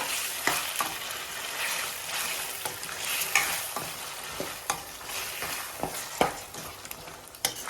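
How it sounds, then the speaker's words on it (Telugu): Ginger garlic paste frying in oil for chicken pickle, a continuous crackling sizzle punctuated by frequent spatula scrapes and taps against the pan, close and moderately loud, no voices. "ఈ ఆయిల్లోని అల్లం వెల్లుల్లి పేస్ట్ ఫ్రై అవ్వాలి బాగా"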